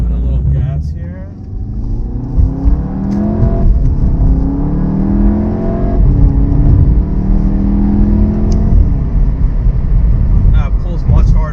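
A VW Golf R with a dual-clutch DSG transmission accelerating hard, the engine note rising and dropping through several quick upshifts from inside the car, with speech over it.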